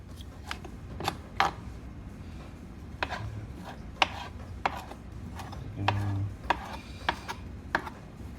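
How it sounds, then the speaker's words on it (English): Vegetables being chopped on a board for a lasagna sauce with basil and oregano, a series of sharp knife taps coming in uneven clusters, close and moderately loud against a low background hum. "I'm just going to chop these up and add them to my sauce"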